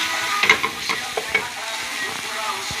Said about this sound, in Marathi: आनी मातशें भाज दिया.